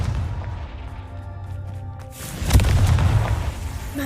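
A Confringo blasting spell explodes in Hogwarts Legacy: a deep boom erupts partway through with a crackling burst, then settles into a rumbling tail over a low background hum, with no voices.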